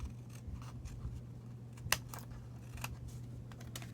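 Scissors trim excess card from a handmade craft card, a series of faint, crisp snips spread irregularly over a few seconds against a low, steady background hum.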